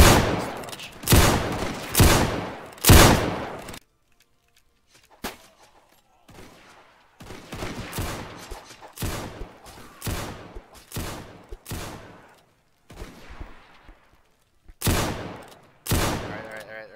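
Musket volley fire in a Roblox Zulu Wars battle: a quick run of loud close shots, a near-silent pause, then scattered softer distant shots and a final pair of loud volleys.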